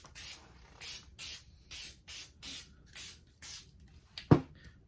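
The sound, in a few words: spray paint sprayed lightly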